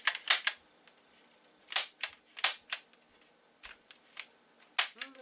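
Trigger pulls on an Umarex UX MCP airsoft gun, non-blowback, give a series of sharp, close clicks, some doubled, spaced irregularly with quiet gaps between them.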